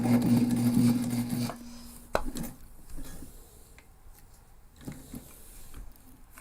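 A sewing machine stitches back over earlier seams on a backpack, giving a loud rapid mechanical whir that stops after about a second and a half. Quieter handling clicks and knocks follow.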